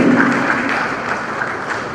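Audience applause at an Edo state education policy launch for Mr. Pius Osaibo, a brief steady wash of clapping that stays fairly loud throughout.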